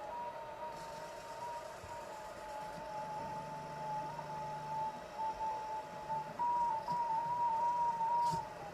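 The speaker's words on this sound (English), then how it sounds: "when we press the audio, then we actually hear this audible feedback when the motor is moving" A steady electronic tone from a robot's servo motor, produced by motor current monitoring, wavers and flickers over a continuous hum, louder and choppier near the end as the motor is loaded.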